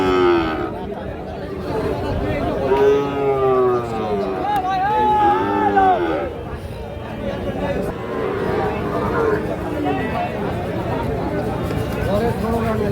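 Sahiwal bull calves at a cattle market, with loud, drawn-out moos rising and falling over a constant hubbub of crowd chatter and nearby voices.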